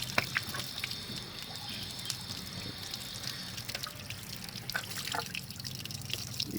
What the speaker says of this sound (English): You can see the coolant has started to drain out.